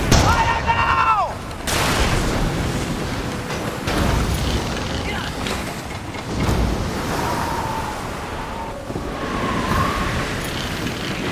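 Pirate ship cannons firing in a dramatized sea battle: repeated heavy booms and blasts rolling across about eleven seconds, loud and dense, with shouted voices and whistling effects mixed among the explosions.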